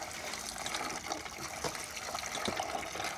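Water gushes and splashes from a pump at a pig pen under construction, a faint, uneven stream of liquid with soft trickles and no voices.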